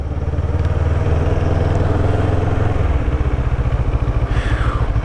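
CF Moto 650NK motorcycle engine running steadily up close during a test ride, a dense continuous low rumble that eases slightly partway through, with faint wind noise and no talking.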